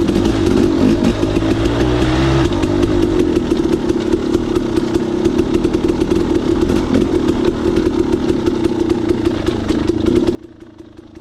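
A dirt bike runs steadily along a single-track forest trail on the Olympic Peninsula, its loud, close engine droning and rising in pitch early on, then cutting off abruptly near the end.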